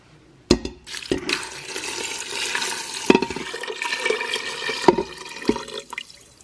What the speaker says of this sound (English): The 5 cups of water.